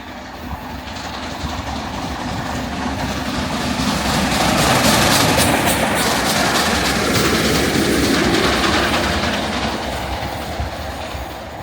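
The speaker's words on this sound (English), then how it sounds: "the LNER Peppercorn A2 Pacific 60532 Blue Peter is at the front of the train. So it's steam locomotive leading as you get it through Hagley Station" LNER Peppercorn A2 Pacific steam locomotive 60532 Blue Peter leads a train through Hagley Station. A loud, steady roar of wheels and carriages rushes past nearby and swells and fades as it goes by.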